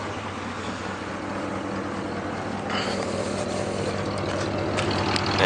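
An old truck engine idles with an even, low rumble, running smoothly and fairly quietly throughout.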